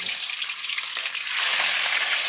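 Cooking oil fries with a dense, bright, crackling sizzle and spatter that swells louder partway through, close and continuous, with no one speaking.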